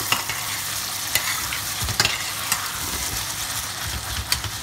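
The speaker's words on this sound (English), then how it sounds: "All right, let's give it a stir." A calabrese and sweet potato stew with stock is stirred in a pot, giving a dense continuous sizzle and bubbling with scattered spoon knocks and scrapes against the pot, close and fairly loud.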